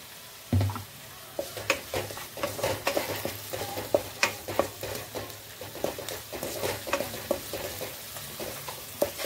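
Eggs and ingredients for egg pasta fry in a pan, steady sizzling broken by frequent sharp scraping and stirring clicks of a utensil, close up with no voices.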